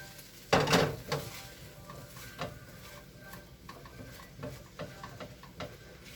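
Fried rice with egg stirred in a pan, a loud scrape and clatter early, then steady low sizzling with softer periodic stirring scrapes and utensil taps.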